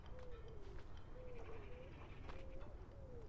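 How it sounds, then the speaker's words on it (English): Birds in a video game coo and call in short, repeated warbling phrases over a low ambient background, soft and fairly distant, with several calls spaced across the moment. "Trying to scare some birds."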